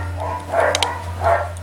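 Dogs barking at a distance outdoors in a yard where a Toro self-drive mower is being restored, a few muffled barks over a steady low hum.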